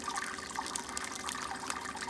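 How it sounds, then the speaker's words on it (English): Sparge water is pumped and trickles steadily over the grain bed while brewing a red ale, a continuous close splashing with no gaps. "I'm just pumping sparge water over the top of the grain here, just to rinse all the sugars out."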